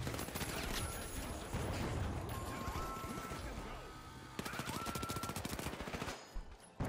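Sustained rapid gunfire in The Finals, turret fire rattling continuously at close range, with other game noises in the mix and speech in the background.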